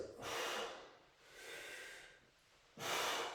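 Forceful exhaled breaths during a quick set of deadlift to high pull exercises, three loud broadband bursts in steady rhythm, close and with no talking.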